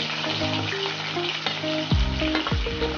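Onions frying in oil for chicken biryani crackle and sizzle up close, with a few clanks of a spoon against the pot and brief higher tones over the steady frying noise.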